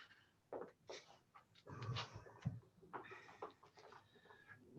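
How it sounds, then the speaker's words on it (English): A dog moves around close to the microphone in a quiet room, with soft sniffing, snorting and breathy panting sounds in short irregular bursts, faint overall. "if you see a dog walk by, you're not having hallucinations. It's my dog."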